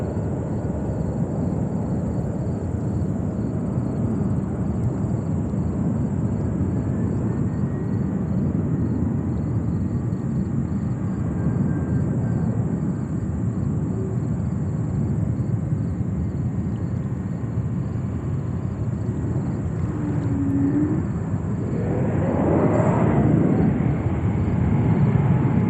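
A JetBlue airliner landing on runway 22 right at JFK Airport, a steady, fairly distant jet roar that holds throughout and swells slightly toward the end.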